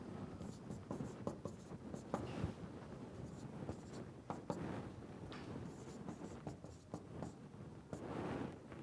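Chalk or marker writing on a board during a solid mechanics lecture, close rapid scratching strokes in irregular bursts, with quiet pauses between them.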